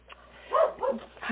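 A dog barks close by with a few short, yelping barks and a whimper, heard through a narrow, phone-like line.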